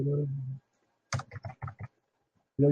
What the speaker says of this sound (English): If you are using, you're typing in some stuff